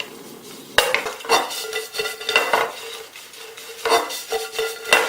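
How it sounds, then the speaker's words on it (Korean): White bread croutons sauté gently in butter in a pan, a soft steady sizzle broken by repeated close scraping and stirring strokes, with no one talking. "지급된 양의 버터 절반 쓰시는 게 좋아요. 살살살 볶아주세요."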